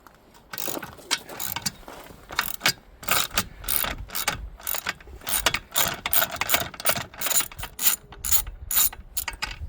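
Socket wrench on a 1/2 inch socket extension loosens a bolt on a Mercruiser Alpha One Gen II drive of a Sea Ray boat, giving fast repeated ratchet clicks in bursts, close and fairly loud, with no talking.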